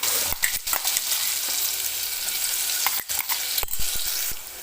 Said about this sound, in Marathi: तर हे वाटण आपल्याला तेलामध्ये व्यवस्थित भाजून घ्यायचं आहे.